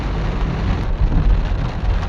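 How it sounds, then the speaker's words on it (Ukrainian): Steady rain beats down during a drive on the way to a fishing trip, a loud, dense broadband wash of drops and road rumble that continues unbroken with no talk. "Дощик так і не перестає."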